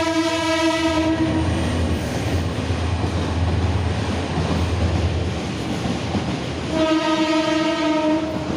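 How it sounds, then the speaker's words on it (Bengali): A train rolls past close by with a steady rumble and clatter of wagons, its horn sounding loudly at the start and again near the end. "ট্রেন যাচ্ছে"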